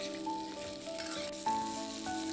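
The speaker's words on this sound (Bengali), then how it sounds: "দিয়ে পেঁয়াজের সাথে ভালো করে ভাজবো।" Sliced potatoes and kohlrabi fry with onions in a pan, giving a steady soft sizzle like light rain, accompanied by sustained tonal background music.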